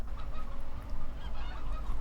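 Chickens in the video game Farming Simulator 2015 cluck and squawk in a dense, continuous flock noise, moderately loud and steady throughout, with no talking over it.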